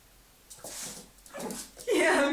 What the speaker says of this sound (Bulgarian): той за първи път чува куче да лай